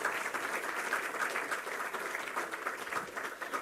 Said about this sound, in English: we can do with a bigger round of applause for such a stellar panel